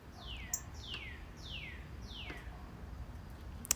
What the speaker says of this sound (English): I have a lovely bright cardinal that keeps me company as I paint.